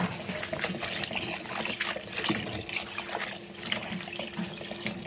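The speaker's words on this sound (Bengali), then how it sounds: "এখন পরিষ্কার করে ধুয়ে নেব।" Running tap water splashing steadily over freshly cut vegetables, including eggplant and drumsticks, being washed in a sink, a continuous close trickle with small irregular splashes.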